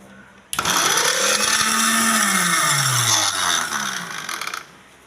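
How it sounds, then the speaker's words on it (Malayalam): A mixer grinder switches on abruptly and whirs loudly and steadily for about four seconds while grinding bread, its motor pitch wavering and dropping slightly, then cuts off. "ഇതിലേക്ക് പറയുന്ന മിക്സി ഇട്ട് നമ്മൾ പൊടിച്ചെടുക്കുക"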